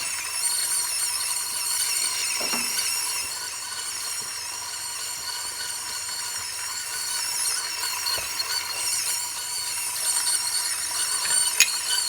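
A Varia VS3 electric grinder grinding 17 grams of coffee beans gives a steady, close, high-pitched whirring hiss that runs continuously for about twelve seconds, with faint crackles of beans breaking.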